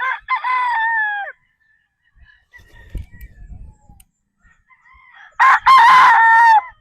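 A gamefowl rooster of Sweater bloodline crows loudly and close by, two full crows separated by a quiet pause with faint rustling and scuffing between them.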